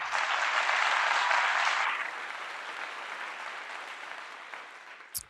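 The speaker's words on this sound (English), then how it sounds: "Next round of applause for that." A crowd at a podcast recording claps loudly for about two seconds, then the applause thins into softer scattered clapping that fades away.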